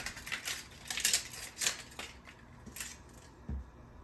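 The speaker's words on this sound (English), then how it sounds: "I'm going to go ahead and cut up my onion" A knife chops an onion in a home kitchen, sharp crisp cuts and taps landing in an irregular series of about ten close, fairly quiet strokes on the board.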